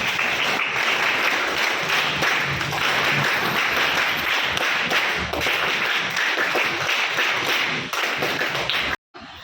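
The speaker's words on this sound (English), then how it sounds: "Big applause to them." An audience at an Independence Day celebration gives sustained applause, dense steady clapping that holds for several seconds before cutting off abruptly.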